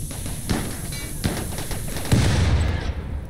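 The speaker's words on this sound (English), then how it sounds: "that is a really long, unstable explosion" A long, unstable explosion in the video game Rimworld crackles and pops in a rapid, fusillade-like burst, with sharp reports and a heavier boom near the end over a steady noisy background.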